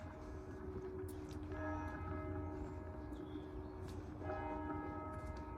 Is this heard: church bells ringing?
yes